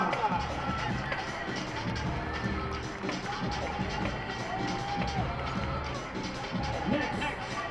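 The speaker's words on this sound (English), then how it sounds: "Round of applause, congratulations" A crowd in football stadium stands cheers and applauds for a senior night honoree, a dense, steady roar of clapping and voices held at moderate distance throughout.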